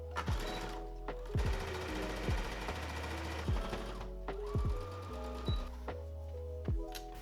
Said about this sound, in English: I'm going to re-sew down this and take it in quite a bit